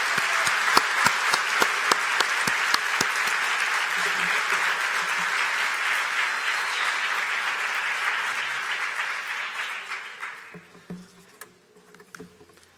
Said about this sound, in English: Can I have a huge, big round of applause for all our PhD candidates?